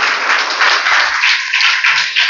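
Congregation applauding loudly at a church consecration ceremony in Chowdepalli village, a dense, steady burst of clapping from many hands filling the space without pause.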